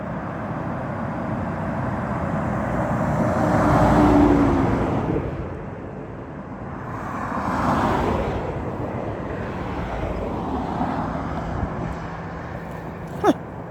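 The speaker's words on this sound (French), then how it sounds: "Et bon, c'est des camions." Trucks passing on a road, heard while walking at dusk: three swelling roars that rise and fade one after another, with a sharp click near the end.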